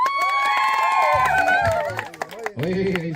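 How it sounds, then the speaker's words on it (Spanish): A group gathered at a campfire cheers noisily during a drawing contest, with loud overlapping shouts, whoops and some clapping rising and falling in close, lively bursts. "Una bulla para el dibujo número 1."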